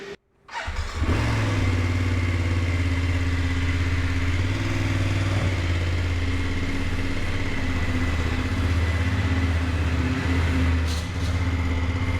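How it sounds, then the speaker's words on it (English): A motorcycle engine fires up after a brief silence and settles into a steady, loud drone as it rides along the road, with a constant low rumble and a faint shift near the end. "I'm riding a motorcycle right now"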